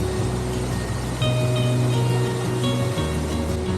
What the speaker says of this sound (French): Écoutez le grondement de l'eau